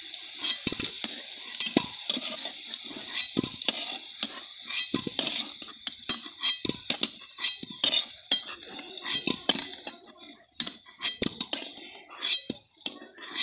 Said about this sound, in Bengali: এদিকে আলুটা ভাজা হয়ে গিয়েছে